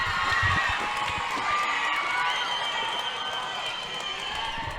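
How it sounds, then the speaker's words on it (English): Roller derby bench players cheering and whooping at a junior championship game, a steady wash of crowd noise and scattered shouts sustained throughout. "all that cheering going on our benches"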